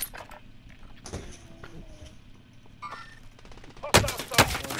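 Call of Duty: Modern Warfare firefight with scattered gunshots and short automatic bursts, mostly mid-distance at first, then a loud close volley near the end.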